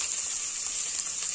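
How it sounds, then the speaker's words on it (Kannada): Chillies and curry leaves sizzle steadily in hot oil for avalakki chitranna, along with onion, a constant close hiss with no talking. "ಮೆಣಸಿನಕಾಯಿ, ಕರಿಬೇವು, ಸ್ವಲ್ಪ ಫ್ರೈ ಮಾಡ್ಕೊಳ್ಳೋಣ"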